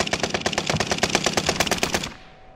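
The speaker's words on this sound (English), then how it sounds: "I'm taking fire!" Rapid automatic gunfire from Call of Duty: Modern Warfare, a loud close burst of evenly spaced shots lasting about two seconds before cutting off into a short fading tail.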